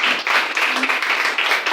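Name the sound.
audience clapping for a guest in church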